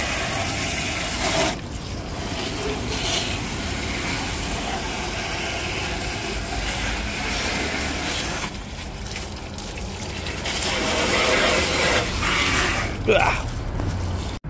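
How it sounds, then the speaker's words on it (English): Water spraying hard from a hose against the muddy underbody of a Land Cruiser, washing off caked mud and build-up, a steady broadband hiss running throughout with brief shifts as the spray moves, and a voice talking over it. "Just a good hose out, get rid of all that mud and build up."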